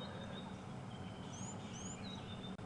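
Several short, liquid bee-eater calls ring out faintly at a distance over a steady outdoor background hum on a hot safari day, scattered across a couple of seconds.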